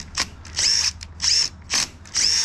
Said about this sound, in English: When I put this in, you can hear the drill impacting